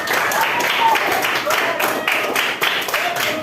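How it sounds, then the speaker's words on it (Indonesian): Grade 7 students at a junior high school in Banjarmasin clap in class after demonstrating congregational prayer: a close, fairly loud round of applause with uneven pulses, mixed with children's voices. "beri tepuk tangan"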